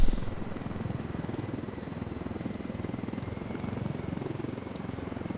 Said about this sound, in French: Donc on va voler l'hélicoptère, on va aller le poser à l'endroit indiqué.